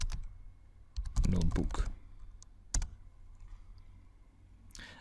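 Clicks of typing on a computer keyboard come in short bursts, including a quick cluster, alongside quiet speech in a still room.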